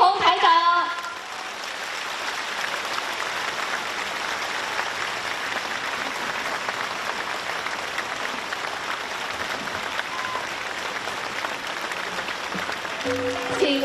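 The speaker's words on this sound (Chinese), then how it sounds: "现在让我们用最热烈的掌声" An audience at a Buddhist dharma assembly in Johor, Malaysia breaks into loud, sustained applause that fills the room continuously for more than ten seconds, after a brief spoken introduction at the start.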